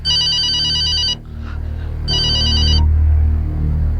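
A phone rings with an incoming call, an electronic trilling tone sounding in two bursts separated by a pause, loud and close over a low background hum.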